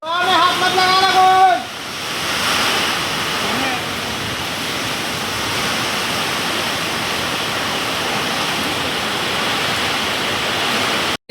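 Heavy rain pours in a steady, loud broadband hiss after a brief burst of tonal sound at the start, continuing unbroken and close for several seconds.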